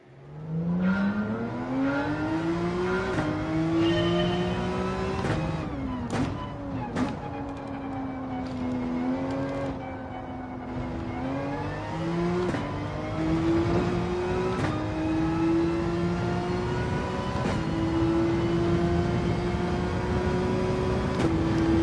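Porsche race car in Gran Turismo 7 at Suzuka, its engine droning steadily and loud for the whole stretch, pitch climbing and dropping through gear shifts with sharp rising sweeps between changes.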